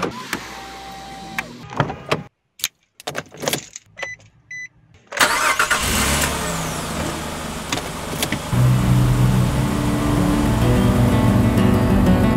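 A family car sets off on a road trip: door and power-window noises with quiet gaps, then an engine starts and settles into a steady, fairly loud driving rumble.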